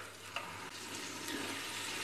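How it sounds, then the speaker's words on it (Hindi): Tomatoes with fried onions, cinnamon and black cardamom powder frying in a pan, giving a faint, continuous sizzle with a couple of soft stirring taps. "इनको ही फ्राई करेंगे अब हम।"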